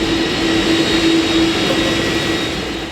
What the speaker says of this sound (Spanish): llegan a Madrid los aviones con españoles evacuados del Líbano